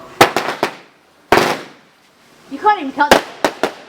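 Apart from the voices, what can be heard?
fireworks exploding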